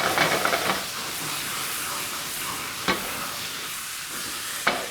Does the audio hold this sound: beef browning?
yes